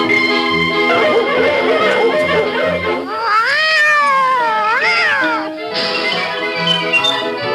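A white kitten up a tree meows and cries repeatedly, with rising and falling drawn-out wails that end in a sharp caterwaul, sounding like a radio drama effect rather than a real kitten.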